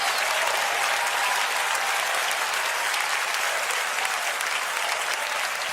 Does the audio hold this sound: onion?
no